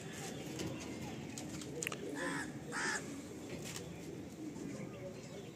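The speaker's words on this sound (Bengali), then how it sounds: "এটাও ডাইরেক্ট আনা পায়রা।" Andhra pigeons in a loft giving soft cooing calls, mixed with a few crow-like caws and faint background voices, moderately quiet and close.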